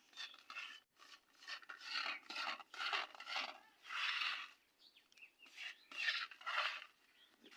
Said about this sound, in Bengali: আমরা এগুলোকে একটু মিশিয়ে নিচ্ছি